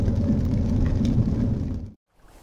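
Steady, heavy rain roaring close by on a boat as a dense hiss, then cutting off abruptly near the end.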